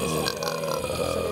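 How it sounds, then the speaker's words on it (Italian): A single loud, drawn-out burp after drinking tea, close and alone with no talk over it. "ho bevuto il tè e mi trovo a fare più rutti di quando bevo la birra"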